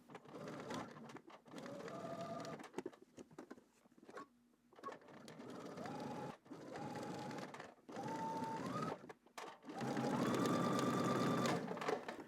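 A domestic sewing machine edge-stitches twill tape onto a polo shirt in several short bursts of whirring motor hum, each run rising in pitch, separated by brief pauses, close and clear.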